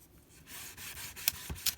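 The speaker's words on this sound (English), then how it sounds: "You take the ribbon and kind of just rub it back and forth like a seesaw on your table" A ribbon from a recycled gift bag is rubbed back and forth on a tabletop, giving a soft, steady scraping rasp with a few sharper swipes near the end, close and quiet with no talking.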